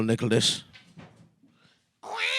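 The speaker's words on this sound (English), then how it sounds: "That's the cat." A cat gives a short meow near the end, just after a stretch of talk by several people.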